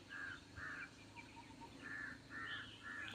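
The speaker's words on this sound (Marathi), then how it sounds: "सर्व पशुपक्ष्यांचा किलबलाट आवाज येतो इकडे सगळीकडं." Several crow-like caws and other bird calls ring out from a cliffside in the Sahyadri mountain range, faint and intermittent, coming in short repeated bursts with pauses between them.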